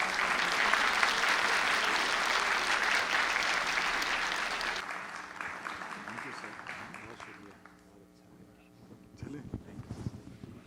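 Audience applause at a book launch ceremony, a dense sustained clapping that fills the first half and then thins into scattered claps and faint murmur with a few brief voices.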